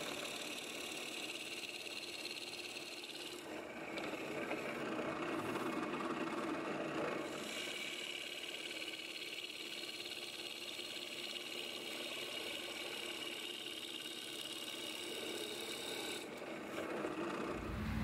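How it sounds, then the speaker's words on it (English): A drill press bores into a wood block with a Forstner bit, a steady whirring motor with a continuous grinding, rasping cut, loud and close and alone for a long stretch, with brief shifts in tone as the bit works. "Let's go put this on the drill press and finish the job."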